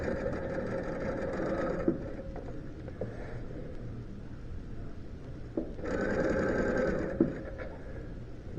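A sewing machine stitches in two steady whirring bursts, the first at the start and the second near the end, with a quieter stretch of small mechanical clicks between them.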